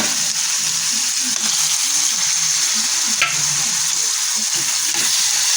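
Brinjal curry with tomatoes sizzles steadily in a pan while being stirred, a continuous frying hiss with soft scraping strokes throughout and no talking.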